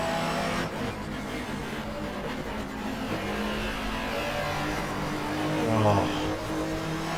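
Touring car engines in the GTR2 racing video game during a 1994 German Touring Car Cup round at the Nurburgring, a continuous droning roar with rising and falling revs, heard under a commentator's voice.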